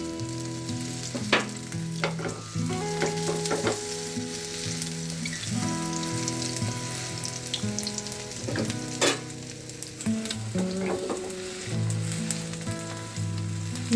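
A layered cauliflower and egg snack frying in a pan with a steady soft sizzle, broken by occasional clinks and scrapes of a utensil, alone at moderate loudness over faint background music.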